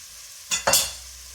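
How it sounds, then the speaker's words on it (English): Garlic sizzles in a pot as the base for a from-scratch pot roast, with two quick scraping stirs in the middle of a soft, steady hiss, close up and without speech. "Give that a little stir in the pot."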